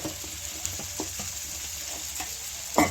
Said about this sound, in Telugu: ఇది కొద్దిగా ఆయిల్లో ఫ్రై చేసుకుందాము.